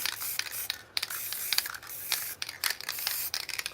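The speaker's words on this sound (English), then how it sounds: "I'm just gonna spray around the ankle more on both shoes" Short bursts of spray paint hiss from a close aerosol can in quick, uneven puffs onto the ankles of shoes, with faint rustling between sprays.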